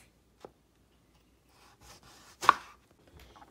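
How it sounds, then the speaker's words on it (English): A knife chops vegetables into smaller pieces on a board for a Guyanese eddoes and baigan curry, giving a few sparse, soft close cuts with one sharper knock among quiet gaps. "I just cut it down like that. And then make smaller pieces so they can cook fast."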